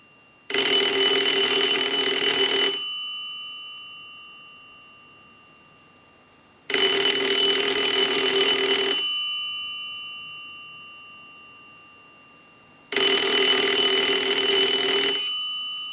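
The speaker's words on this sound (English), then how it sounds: "send a ring cycle like you were getting a call" A Pottery Barn grand wall telephone bell rings loudly in long bursts, three rings separated by pauses of silence, each ring sustained for about two seconds.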